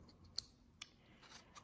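Scissors cut through yarn wrapped around cardboard to make a pom pom, two faint, crisp snips a moment apart, followed by softer rustling in a quiet room.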